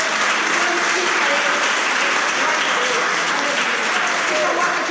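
A church congregation applauds at an evening family service, a dense, steady wash of many hands clapping at once, loud and sustained from start to finish.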